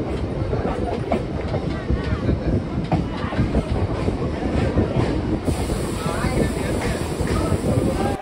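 A Katwa–Sealdah local train arriving at Ambika Kalna station rumbles with a continuous broad roar and rattling wheel noise, steady and close throughout.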